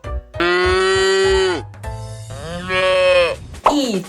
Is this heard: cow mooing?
yes